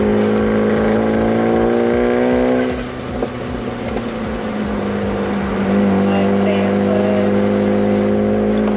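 A Genesis Coupe running a new AlphaX ECU accelerates on a race track, its loud, close engine drone steady, easing briefly after about three seconds, then climbing again.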